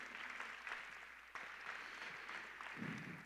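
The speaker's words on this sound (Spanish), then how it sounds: "Dale un fuerte aplauso al Señor Jesús." A church congregation claps during a Spanish-language sermon, a soft, steady spatter of applause from a fairly distant crowd with no talking over it.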